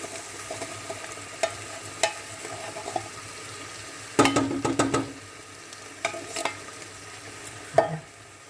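Water poured into a pan of sizzling chicken and button mushrooms, heard as a sudden louder hiss and bubbling burst midway, amid quiet stirring clinks and soft frying noise.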